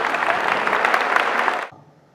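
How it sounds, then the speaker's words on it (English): Students at a general knowledge quiz competition clap together in a short, even burst of applause that cuts off abruptly after under two seconds, leaving near silence. "Guys, please clap."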